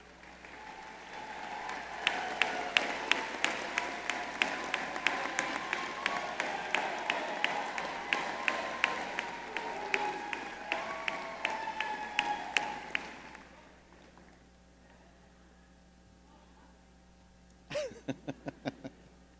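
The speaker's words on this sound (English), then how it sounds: "Would all award recipients stand for a round of applause?" Commencement ceremony audience for a business school's master's and doctoral graduates breaks into sustained applause from a large crowd in a hall, steady clapping for about thirteen seconds before fading, then a brief sharp burst of claps near the end.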